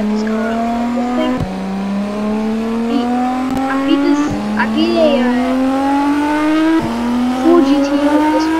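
A Nissan Skyline cop car engine from the Roblox game Vehicle Simulator drones at a steady, slowly rising pitch, with several sharp gear-shift drops in between. A person talks over it.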